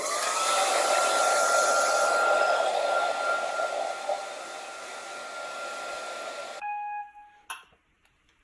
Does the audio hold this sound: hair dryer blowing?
yes